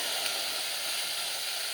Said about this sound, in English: they're going to have a tiny bit of a sizzle.